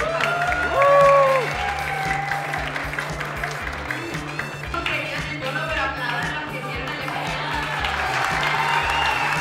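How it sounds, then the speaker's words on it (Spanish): Office staff applaud two Halloween contest winners, a steady crowd of clapping that runs throughout at moderate level, with voices and a brief whistle-like tone mixed in. "aplauso para nuestros dos ganadores de Halloween de este año"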